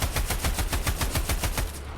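Rapid automatic fire from an ACS gun in a video game: about a dozen evenly spaced punchy shots in a steady burst, loud and close, with no talk.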